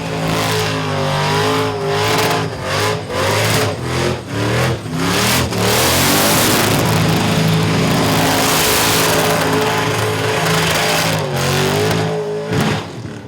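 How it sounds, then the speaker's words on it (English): A V8 car with a 406 small block Chev in a 1980 HZ one-tonner revs hard during a burnout contest on a pad, a loud sustained engine roar with rising and falling revs and no talking. "Lots of smoke, lots of noise, throw it around the whole pad, and pop the tyres."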